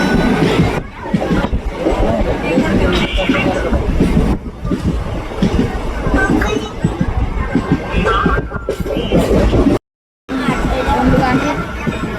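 Train pulling out of a station in Shirdi, with steady rumbling and rail clatter running almost throughout, a brief drop to near silence near the end, and crowd babble mixed underneath.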